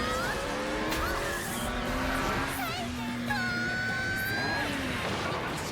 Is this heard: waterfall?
no